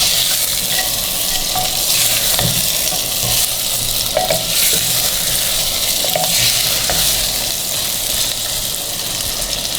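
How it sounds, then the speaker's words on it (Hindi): Mutton pieces stirred in a handi pot over heat, a loud, dense sizzle and bubbling with intermittent scraping and clanking of the spoon against the pot, no talk. "गोश्त डालने के बाद इसको हिलाया हमने।"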